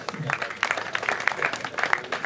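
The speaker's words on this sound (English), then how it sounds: "Please, a round of applause." Crowd applause at a university matriculation ceremony, scattered claps, steady and moderately loud for a couple of seconds, with some voices mixed in.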